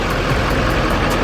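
A Duramax diesel truck engine rumbles steadily nearby, a dense, even drone with no talk over it.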